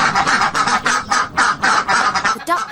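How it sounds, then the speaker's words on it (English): A duckling lets out a series of loud, rapid quacking calls, repeated in quick bursts close up, with a sharper final squawk at the end. "The duckling gave a loud quack."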